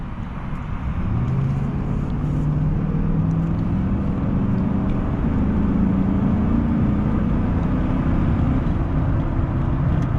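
A 2001 GMC Sierra 1500 pickup cruising on the freeway, with steady loud engine drone and road and tire roar throughout, low engine tones holding steady, no talking.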